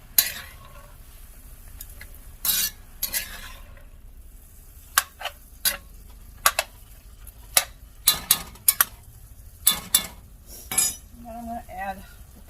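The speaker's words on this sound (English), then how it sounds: "diced tomatoes and green chilies. Just mix all that up." A spoon clanks and scrapes in a pan as diced tomatoes and green chilies are stirred into a sloppy joe mixture, with irregular sharp metallic knocks over a faint sizzle, close by and without talk.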